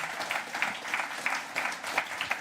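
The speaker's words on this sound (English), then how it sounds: "let's give them a round of applause" Audience at a live community event in Birmingham applauds steadily, a dense patter of many hands with a few louder bursts, filling the room with no talking over it.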